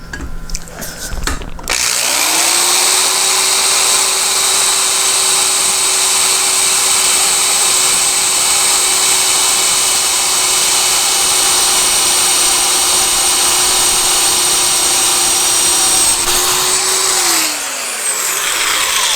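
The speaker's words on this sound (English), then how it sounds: "Okay, so I'm going to drill the first 1/8 inch hole." A power drill bores a 1/8 inch hole into a Dish Network 1000.4 satellite dish, running as a loud, steady whine for about fifteen seconds before spinning down, with a few handling knocks at the start.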